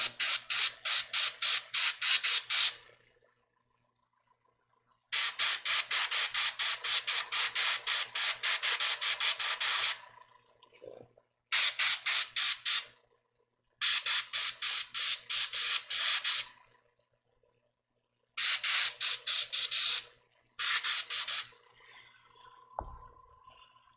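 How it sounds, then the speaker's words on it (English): A small, cheap air compressor running for airbrush painting gives loud, buzzing bursts lasting a few seconds each, starting and stopping repeatedly with short silent gaps between runs, close by with no speech. "Honestly, this compressor is friggin' loud and annoying"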